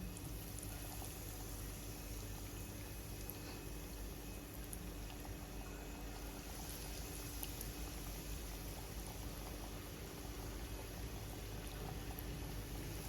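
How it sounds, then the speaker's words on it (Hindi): Chicken strips fry over a slow flame in hot oil, giving a constant soft hiss and bubbling sizzle that stays even and fairly faint throughout. "स्लो फ्लेम में ही हमें इसे फ्राई करना है"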